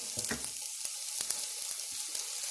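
A Vietnamese pizza fries in a pan with a steady, close sizzle, broken by a few scraping stirs near the start and occasional soft ticks and clicks.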